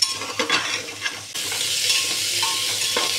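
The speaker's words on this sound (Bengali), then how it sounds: "এটাকে ভালো করে নাড়াচাড়া করে একটু বেশ ভালো করে মশলার সাথে নাড়াচাড়া করে কিন্তু মিশিয়ে নিতে হবে" Vegetables tossed with spices in a pan for a chicken khichdi, a steady sizzle with scraping stirs, briefly uneven at first, then a continuous close fry.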